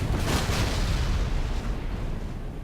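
A deep, rumbling explosion from the space combat game Everspace rolls out loud and close, filling the whole stretch with a heavy boom that slowly fades.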